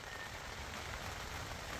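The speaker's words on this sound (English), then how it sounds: "The rain caught up with us." Steady rain patters on a tent while campers shelter inside during an overlanding trip, a soft, even hiss of drops with no voices, quiet and continuous throughout.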